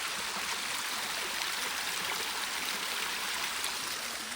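Steady broadband rush of stream water flowing along a Sahyadri trekking trail near the Gadgeshkal waterfall in Phondaghat, continuous and fairly close with no voices.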